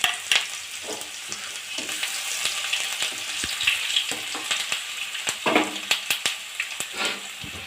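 Chopped garlic and ginger frying in very hot oil in a wok, with lively crackling sizzle and frequent sharp spatters and stirring knocks.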